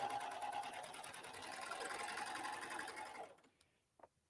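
A Baby Lock Accolade serger/coverstitch machine runs a single-needle chain stitch in a steady, loud, continuous mechanical whir that stops abruptly near the end, followed by a couple of faint clicks.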